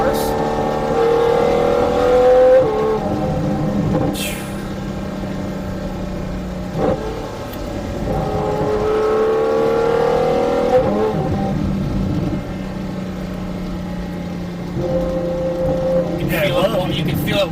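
A Ferrari 812 Superfast V12 revs and accelerates from inside the cabin, its engine rising in pitch through repeated pulls separated by gear changes, loud and close, with people talking over it.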